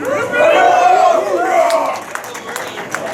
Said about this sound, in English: we're gonna need another big cheer